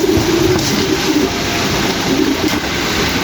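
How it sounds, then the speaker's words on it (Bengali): A pair of White Bombay pigeons coo in low, repeated throaty bursts, close by and over a constant loud background rumble, with no talking. "এক জোড়া হোয়াইট বোম্বাই, মাশাআল্লাহ অনেক সুন্দর একটা জোড়া কবুতর"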